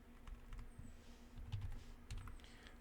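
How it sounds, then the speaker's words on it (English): Fingers tap out a short command on a computer keyboard in Windows. The keystrokes are soft and quick in a quiet room, with no one talking. "we could type just Winget, and then we search"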